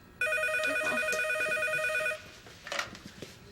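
A telephone rings once in a steady electronic trill lasting about two seconds, followed by faint rustling and a brief clatter, like a handset being picked up.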